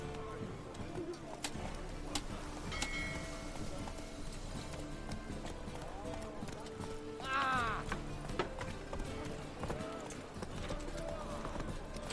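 Horse hooves clip-clop steadily in The Witcher 3 video game, the rhythmic footfalls sitting amid continuous game ambience with music and occasional bird calls, while a voice speaks over it.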